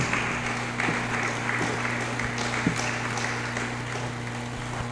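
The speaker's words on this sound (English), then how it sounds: "Let's put our hands together." Audience at a leaders conference clapping as a speaker returns to his seat; steady, moderate applause that carries on for the whole stretch over a low electrical hum.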